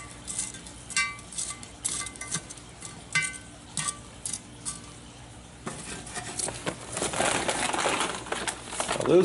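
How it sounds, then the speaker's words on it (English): Charcoal coals dropped and scraped onto a cast-iron Dutch oven lid outdoors, heard as repeated clinks and light crunching taps that build into a denser, louder rattling and crumbling near the end. "Go ahead and load some coals up on top."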